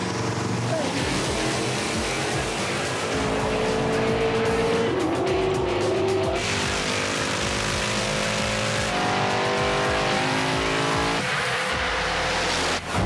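Race cars launch and roar through the first round of a Pinks All Out drag event, engines loud and sustained with rising pitch, a brief tire squeal, and crowd and commentary noise underneath.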